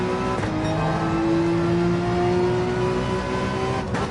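A race car in Gran Turismo 7 accelerates hard out of a corner. The engine drone is loud and close and its pitch climbs steadily, with a brief shift-like break near the end and no voices.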